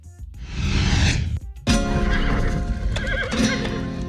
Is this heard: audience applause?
no